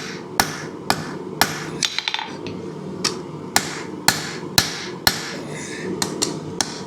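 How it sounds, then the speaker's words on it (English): Hammer blows on hot steel ring out at a steady pace while hand forging a hidden-tang hunting knife, about a dozen sharp metallic strikes with a brief rapid flurry of lighter taps. "I'm going to use the peen of my hammer to kind of draw this out a little bit."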